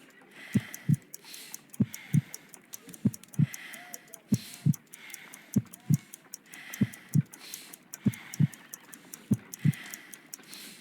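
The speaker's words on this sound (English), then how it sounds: "I need to concentrate and count the heartbeats." Slow, steady heartbeat from Sherlock Holmes: Crimes & Punishments, about nine paired thumps at an even rhythm of roughly fifty per minute, close and distinct over a faint ticking background.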